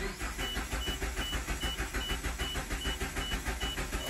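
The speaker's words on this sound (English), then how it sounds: "Crank it and clear flood mode here for a second." An engine cranks over in clear-flood mode during misfire diagnosis on a single-cylinder fault, a steady rhythmic starter-motor churn with regular pulses, loud and close, continuing without catching for several seconds.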